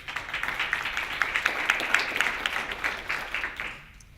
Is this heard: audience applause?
yes